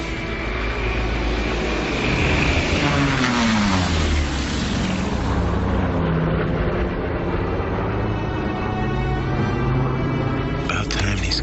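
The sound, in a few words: approaching aircraft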